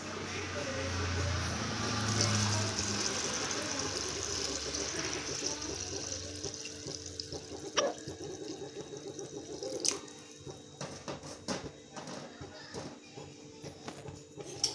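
Hot water poured into a pot of rice for biryani, a steady close gushing pour that tapers off into splashes and clinks, with a voice talking faintly over part of it.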